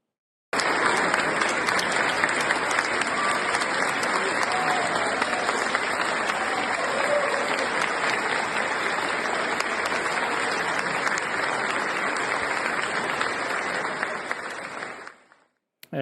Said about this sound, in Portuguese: Vamos ver a cena do governador da Matança aplaudido pelos cristãos dentro da igreja.